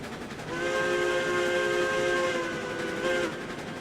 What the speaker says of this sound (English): Really gives the whistle a nice chance to sing out here